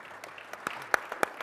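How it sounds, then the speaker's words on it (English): A conference audience at SAP TechEd claps briefly, a handful of distinct, sparse claps spaced out over about a second, fairly close, with a faint murmur underneath. "can you guys just clap if you like that style every day?"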